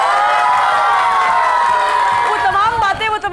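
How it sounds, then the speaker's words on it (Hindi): Studio audience on a weekend talk show hooting and cheering loudly, a sustained wash of whoops and shouts with a few claps, fading slightly toward the end. "हूटिंग से पता चलेगा भाई।"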